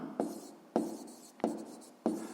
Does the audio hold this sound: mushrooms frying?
no